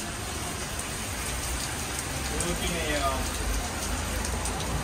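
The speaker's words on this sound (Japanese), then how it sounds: "やばいね、雨。" Heavy rain during a thunderstorm while on a bicycle trip around Japan, a dense steady hiss of downpour close by, with brief talk over it.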